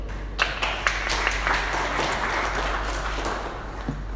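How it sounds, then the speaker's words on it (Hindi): Applause for Sangeeta ji at a conversation event, a steady wash of many hands clapping together with a few sharper individual claps standing out, sustained throughout. "मैं ये ताली अपने लिए नहीं, संगीता जी के लिए बजा रही हूँ।"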